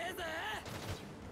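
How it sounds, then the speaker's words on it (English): Cannon fire rumbles in My Hero Ultra Rumble in short bursts layered under a tonal game voice or music, moderately loud and somewhat distant. "Let's just go to where the cannons are firing, I guess."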